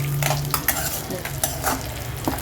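Eggplant sautéing in a pan after steaming under a lid, for a traditional village-style khara vangi, a close crackling sizzle broken by repeated scraping strokes of a spoon.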